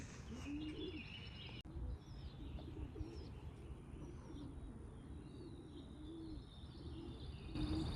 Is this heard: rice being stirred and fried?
no